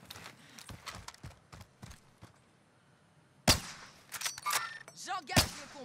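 Gunfire off to the left in the video game Warzone, scattered sharp cracks, two loud shots standing out among lighter clicks and taps, with quieter stretches between.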